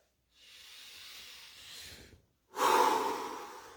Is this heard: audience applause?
no